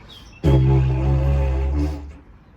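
A single weak, low, buzzing didgeridoo drone starts abruptly, holds steady for about a second and a half, then stops, close and fairly loud.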